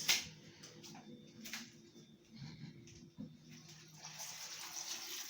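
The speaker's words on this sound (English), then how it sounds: "I'm just washing my grapes." Running water pours steadily in a kitchen while green grapes are washed, with a continuous gushing flow and a few brighter splashes.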